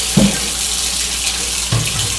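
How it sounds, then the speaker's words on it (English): Hot water runs steadily from a kitchen tap while knives are washed, a constant close hiss of flow with two brief splashes or clatters near the start and near the end. "When cleaning our knives, we want to use hot water, as hot as we can stand, and we also want to use soap in the first process."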